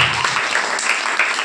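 A church congregation clapping during a fasting prayer meeting, steady dense handclaps filling the room with no talk over them.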